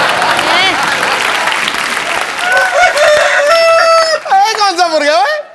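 On a comedy show stage, a voice imitates a rooster's crow with rising and falling wavering calls, loud and close, over an audience's applause and crowd noise.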